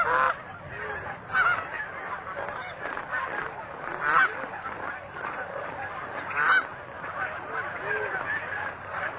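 A small, stubby-necked cackling goose honks repeatedly, with high, yelping calls coming in uneven bursts at moderate distance over faint background hiss.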